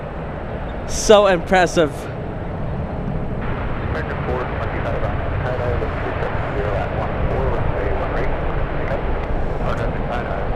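Airliner passing overhead at San Francisco airport, a broad steady engine roar that swells and holds, heard under excited outdoor voices and a burst of chatter at the start.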